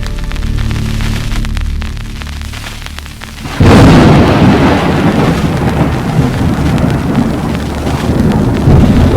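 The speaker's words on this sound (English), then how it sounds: "Where did this rain come from all of a sudden?" A sudden downpour with thunder: a low steady hum gives way to a loud burst of dense, crackling rain and rumble that continues strongly to the end, with no talking.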